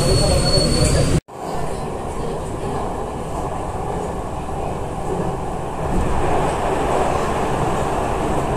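A Jakarta MRT train arriving at a station: a steady, loud, close rumble of wheels and motors with some squeal, a brief dropout near the start, then continuous running noise.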